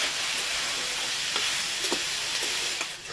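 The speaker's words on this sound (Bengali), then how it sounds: "সয়াবিনটা দেওয়ার পর দেখো খুব সুন্দর করে ভেজে নিয়েছি" Soya chunks sizzle steadily in hot oil in a pan while being cooked for keema soya rice, a dense continuous fry with a few faint stirring clicks and scrapes, close and even throughout.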